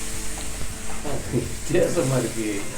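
Sizzling and scraping as a sweet mixture is stirred in a pan over a low flame, steady hiss with soft stirring strokes under speech in the background.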